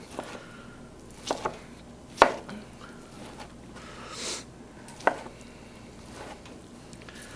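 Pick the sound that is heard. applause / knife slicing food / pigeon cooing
knife slicing food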